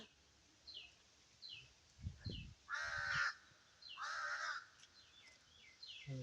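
Two crows caw loudly and repeatedly during a fight with a cat, harsh bursts in irregular rhythm, with fainter caws and chirps between them and no talking.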